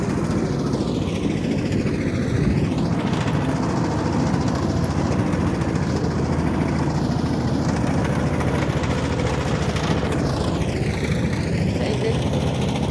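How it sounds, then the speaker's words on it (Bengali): A motorboat engine on the Gorai river runs after starting, a loud, steady, continuous drone that holds unchanged throughout. "এই যে নৌকাটা স্টার্ট দিয়ে দিয়েছে"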